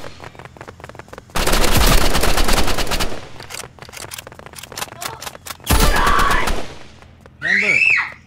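Rapid bursts of video-game gunfire aimed at a red barrel crack out in loud volleys, with single shots scattered between them and a sharp chirping effect at the end, all up close.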